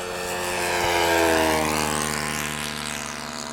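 Electric RC sport plane spinning during aerobatics, a whining motor and propeller drone that swells and fades with sweeping pitch changes, fairly loud and continuous, no talk.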